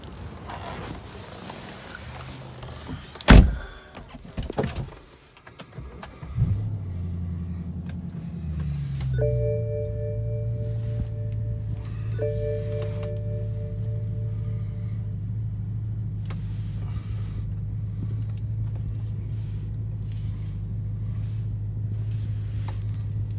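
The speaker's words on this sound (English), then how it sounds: "I need to move the car real quick." A 2008 BMW 650i starts with a sharp crank and engine flare, then settles into a steady low idle rumble, close by, as the car is moved, with a few small clicks and handling noises earlier on.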